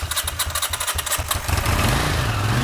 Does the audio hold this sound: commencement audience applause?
no